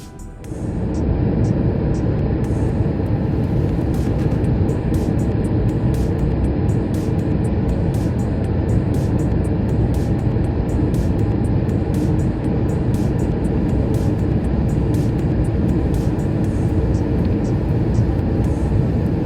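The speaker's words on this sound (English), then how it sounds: "we was beginning our descent down to Charles de Gaulle Airport" Steady, loud engine roar and airflow rumble inside the cabin of an Air France Airbus A220 descending toward Paris Charles de Gaulle, constant throughout with faint periodic ticks above it.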